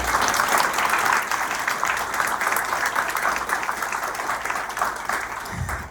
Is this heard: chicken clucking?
no